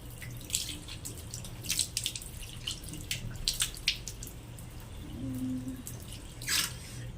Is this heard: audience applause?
no